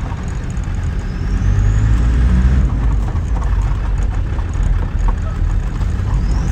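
A 2007 Land Rover Defender 110 TD5 double cab diesel idles steadily up close, a loud continuous low rumble running unbroken throughout with no talking.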